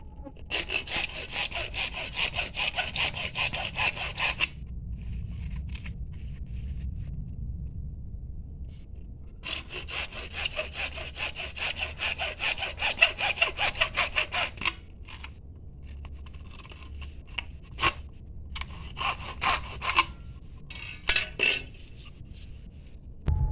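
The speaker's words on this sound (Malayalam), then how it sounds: "ഇനി ഇതിന്റെ സൈഡിൽ നമുക്ക് രണ്ട് കട്ടിങ് ചെയ്യാണ്ട് ഒരു ഇഞ്ച് നീളത്തിൽ രണ്ട് കട്ടിങ് കൊടുക്കണം" Rapid scratchy strokes of a small hand saw cut slits into the end of a PVC pipe, coming in long bursts separated by pauses, with a few sharp clicks and scrapes. There is no talking.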